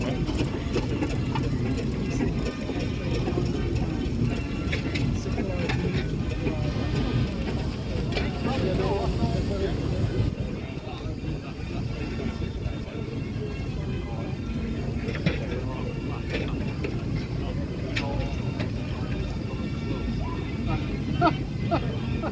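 A big Burrell steam traction engine rumbles past at a steam rally at Duncombe Park, Helmsley, a continuous low mechanical churn with crowd murmur and a commentator talking over it throughout.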